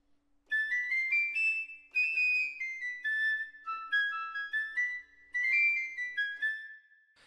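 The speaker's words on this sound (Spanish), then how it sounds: "la flauta piccolo es la más aguda de todos" A piccolo flute plays a bright, very high-pitched melody of short, clear notes in quick phrases, moderately loud and alone, with no talking.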